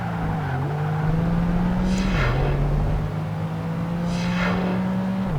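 A Ferrari 575 Maranello races in Project Gotham Racing 2, its engine note holding high revs, dropping briefly at a gear change near the midpoint, then climbing again, with tire squeal and a passing car heard alongside.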